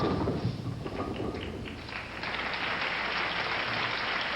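Crowd at a 1985 PBA professional bowling tournament applauding, a dense, sustained roar of clapping and cheering that holds steady and fills the hall, with no clear speech.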